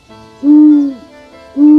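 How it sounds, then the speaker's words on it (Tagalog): Two deep, hollow hoots from an owl, close and clear, the first long and steady, the second starting just after a short pause. "Mula noon, tinawag nila ang ibon na ito na kwago"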